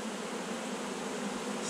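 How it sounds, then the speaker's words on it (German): Honey bees from a captured swarm buzz around their queen, a faint, steady, close hum of many wings with no break and no talking. "Da sind noch zwei andere Bienen dabei."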